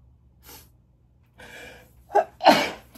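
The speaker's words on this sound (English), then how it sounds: "and then I'm gonna sneeze" A single loud sneeze close up, preceded by a couple of quick sharp inhales building up to it, in an otherwise quiet setting.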